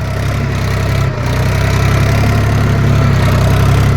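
Tractor engine chugging steadily while being driven on a farm, a loud, close, low rhythmic drone with one short dip near the start and no voices.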